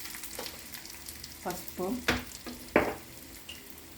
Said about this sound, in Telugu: పప్పు తాలింపు పెడుతున్నాను.